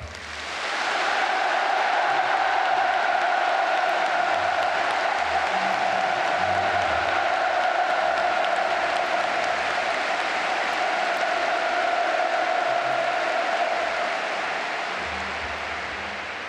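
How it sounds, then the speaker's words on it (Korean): A large Pyongyang stadium crowd at a performance applauds in a sustained, even wash of clapping that holds steady and only begins to thin near the end. "평양시민 여러분, 문재인 대통령에게 다시 한번 뜨겁고 열렬한 박수를 보내주시기 바랍니다"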